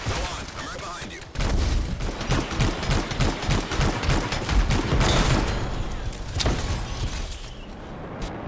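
Gunfire in the game Anthem, a sustained, crackling barrage of rapid shots and impacts that starts abruptly and runs on loudly for several seconds, with battle noise underneath.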